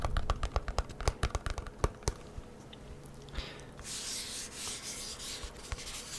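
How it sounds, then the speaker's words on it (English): A cardboard box being touched and handled up close, first with a string of sharp taps and knocks, then shifting into a steady soft rubbing and brushing. "touching slash handling,"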